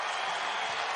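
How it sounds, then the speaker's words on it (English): A basketball arena crowd in Bloomington roars during a Northwestern vs Indiana game, a dense steady wash of cheering and noise, loud and unbroken for a brief moment. "here comes the crowd in Bloomington"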